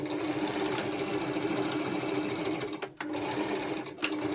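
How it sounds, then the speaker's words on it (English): Sewing machine stitching a seam on a fabric ear pressure band, a continuous fast whirring run that stops briefly near the end and then restarts, close and steady. "Now I like to make another seam on either side"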